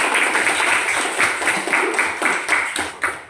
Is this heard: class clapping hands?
yes